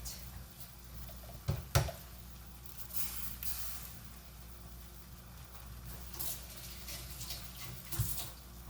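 Water running quietly while vegetables are rinsed, a soft steady hiss with a couple of louder knocks and splashes, heard faintly and alone.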